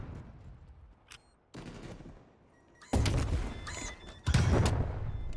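Sniper gunfire in a Treyarch Call of Duty game comes as a few sharp, loud booming shots and bursts, with quieter stretches of game noise between them.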